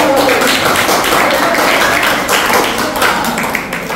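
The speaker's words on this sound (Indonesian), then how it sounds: "Tepuk tangan dulu buat Yosafat dong" Applause for a pupil named Yosafat at a dental care talk for preteens, a steady wash of many hands clapping for about four seconds, loud and close.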